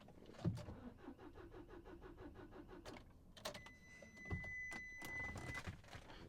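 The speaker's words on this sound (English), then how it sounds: "She did crank over and she did start." A 2013 Nissan Qashqai 1.6 dCi engine cranks with a fast rhythmic churning for about two seconds, then catches and settles into a faint steady idle with a high electronic tone, heard close with no talk.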